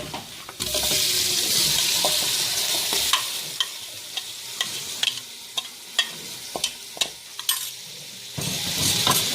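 Chicken is added to golden brown onions in a pan for chicken handi, sizzling loudly and steadily while a spoon stirs with repeated scraping knocks.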